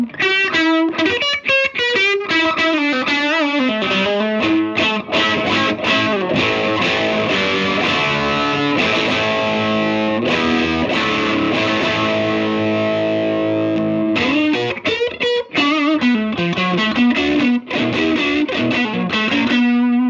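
A heavily distorted electric guitar through a TopHat Mini Junior HG 1x12 tube combo amp, in high gain mode, plays riffs and sustained chords, thick and saturated, loud and continuous with no talking.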